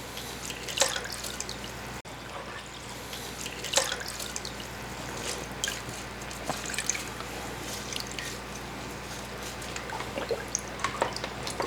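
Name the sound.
aquarium sponge filter squeezed out into tank water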